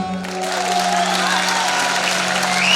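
Concert crowd at a Turkish folk music night gives steady, dense applause that swells slightly, a continuous wash of clapping heard close with a faint lingering tone from the stage.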